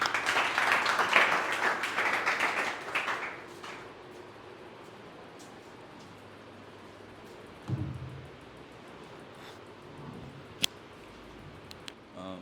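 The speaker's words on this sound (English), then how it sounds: "please give him a huge round of applause" Applause from the audience at a group discussion event rises briefly, about three seconds of dense clapping, then dies away into a quiet room broken only by a few faint knocks and thumps.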